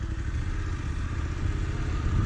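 A Voge DSX 900 motorcycle engine runs as the bike is ridden on the road, making a steady, close low rumble with a constant drone that rises slightly toward the end, with no talking.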